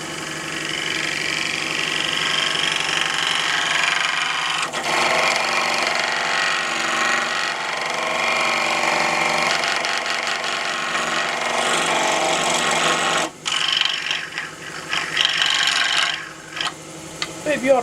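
A spinning wooden turkey pot call on a lathe is buffed with carnauba wax, giving a steady whirring, rubbing drone that cuts off abruptly near the end and then returns in short bursts.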